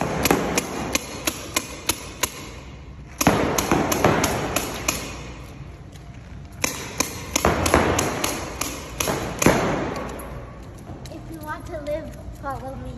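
Rapid paintball gun shots ring out in bursts inside an indoor paintball arena, sharp repeated pops in quick strings with short pauses between, loud and close, and people talk in the background.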